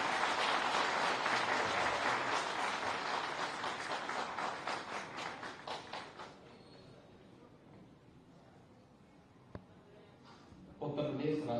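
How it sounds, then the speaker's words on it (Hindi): Audience members at a Uttar Pradesh State Information Commission software and mobile app launch event clap in a steady, full round of applause that thins and fades out after about six seconds, leaving near quiet before a voice returns. "मैं बहुत ही आदर के साथ तालियों के अभिवादन के साथ"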